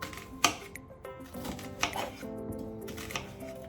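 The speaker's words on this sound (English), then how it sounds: "And then I'm gonna chop the onion." Knife chopping an onion on a cutting board during home cooking, a handful of sharp, separate chops spaced irregularly, fairly close and moderately loud with kitchen background between strikes.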